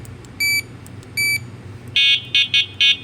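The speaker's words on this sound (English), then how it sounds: "The horn is super loud." A Teverun Supreme Fighter Ultra 2.0 electric scooter sounds two short, softer electronic beeps, then its loud, shrill horn blasts four times in quick, uneven succession, close by.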